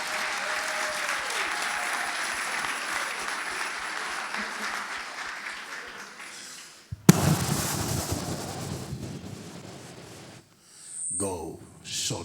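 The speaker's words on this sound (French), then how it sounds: "est-ce que tu peux acclamer pour Jésus?" Audience at a Geneva revival night applauding and cheering for Jesus, a dense sustained clapping that fills the room, then a sharp burst and louder roar of cheers that drops away briefly and swells again.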